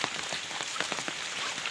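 Rain falls steadily on surfaces outdoors, a soft, even patter with scattered distinct drops, heard alone without voices during a walk home from school.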